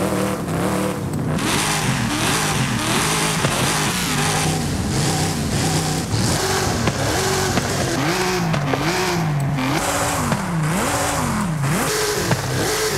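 A lowrider car with a 7-litre engine drifts through a city map in Forza Horizon 5, its engine revving loudly and continuously with repeated rising and falling pitch sweeps and occasional tire squeal, no talking.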